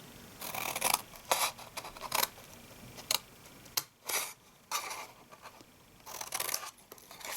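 Scissors snip paper to notch and trim a fold-flat gift box for tea sachets, a series of short, crisp cuts and rustles coming in irregular bursts, close and clear with no talking.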